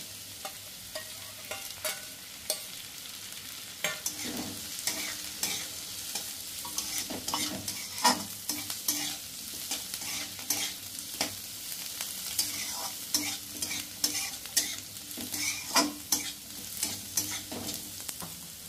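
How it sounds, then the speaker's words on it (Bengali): Pre-fried potatoes tossed back into a hot pan and stirred over a raised flame, steady sizzling broken by frequent spatula scrapes and clatters throughout, with no talk. "এখন দিয়ে দেব ভেজে তুলে রেখেছিলাম আলুগুলোকে।"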